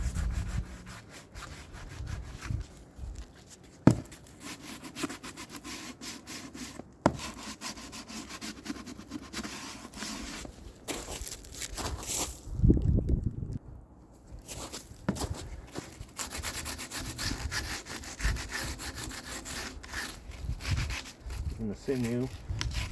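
Someone scrubs a wooden native snowshoe frame with sinew mesh to clear old grime and water stains. Close, uneven rubbing strokes run continuously, broken by a few sharp knocks and handling noises, with a short quieter pause in the middle.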